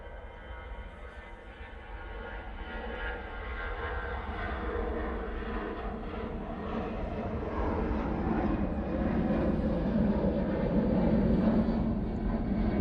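A Vueling airliner jet on the runway at Manchester Airport, a steady distant engine rumble and whine that slowly swells louder, heard alone in the open air.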